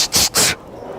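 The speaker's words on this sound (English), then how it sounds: "You just walked up and started sneezing." Two sharp sneezes in a row in a quiet library, each a short breathy burst close to the listener, followed by soft room quiet.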